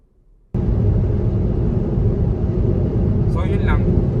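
Steady, dense road roar inside a moving BYD Seagull electric car at 90 on the SCTEX expressway, broadband rumble with tire and wind noise, loud and constant, starting abruptly after a quiet moment.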